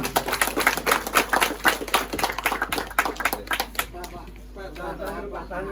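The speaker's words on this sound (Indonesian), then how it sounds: "Ya, boleh kita berikan tepuk tangan terlebih dahulu." Applause from an audience at an Indonesian farmers' association charity event, a dense burst of clapping that thins out after about four seconds, with voices talking over and beneath it.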